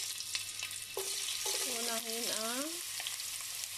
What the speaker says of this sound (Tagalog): Igigisa na natin siya.